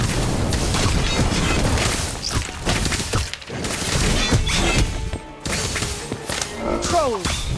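Fiery spell effect from a Harry Potter video game, a loud burst of crackling, whooshing blasts and crashes layered with game music and other effects, continuous and busy throughout.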